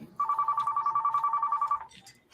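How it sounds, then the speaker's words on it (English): A telephone bell rings in one sustained burst lasting nearly two seconds, loud and close, in a quiet setting on a haunted-attraction show, then cuts off. "Hey, I got a phone call."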